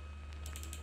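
Computer keyboard keys pressed during a PowerPoint session, a few quick soft clicks close by over a low steady hum.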